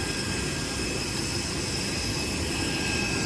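Steady, loud roar of VietJet airliner jet engines at an airport, a continuous broadband drone with a faint high whine holding level throughout, with no talking.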